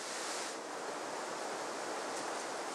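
Steady broadband rush of the Langevin river flowing in the south of Réunion island, a continuous loud wash of water with no pauses or voices.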